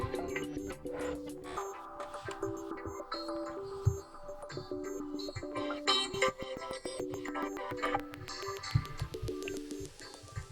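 Music plays quietly from the bottom speaker of a Samsung Galaxy M33 phone, a thin, busy pop track with beats and melody heard at low level without anyone talking.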